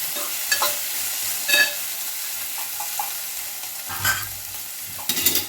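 Okra fry with coriander powder being stirred in a pan: a steady soft sizzle with intermittent scraping and clattering of a spatula against the pan, close and fairly quiet, with no talking.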